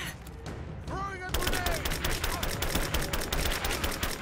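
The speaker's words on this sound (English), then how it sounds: "I'm taking fire." Gunfire in the video game Rise of the Tomb Raider: rapid repeated shots crackle close and loud for several seconds, following a brief spoken line.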